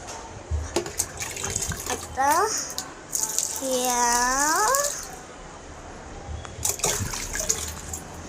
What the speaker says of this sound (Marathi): या झाडाला पाणी टाकते आता.